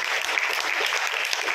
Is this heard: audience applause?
yes